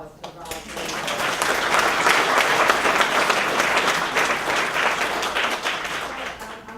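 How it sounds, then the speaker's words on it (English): A community speaker-series audience breaks into sustained, steady applause, a dense wash of many hands clapping that stays loud for several seconds, with voices mixed in. "Please give another round of applause to Rob."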